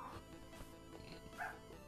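Dogs bark, yip and whimper indoors in short, fairly faint bursts over a steady background hum, with no clear speech.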